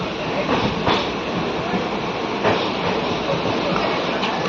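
A passenger train at Gondal railway station in Gujarat rumbles loud and steady from inside, with a few scattered rail clacks and knocks rising above the constant roar.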